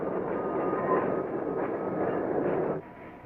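Santa Fe Railway freight cars rumbling steadily through a rail yard, a continuous loud low roar with faint metallic tones that cuts off abruptly near the end.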